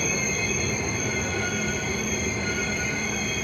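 The Sapthagiri Express arriving at Puttur station, heard from on board as steady loud rumbling with high, sustained wheel squeal ringing over the rail noise throughout.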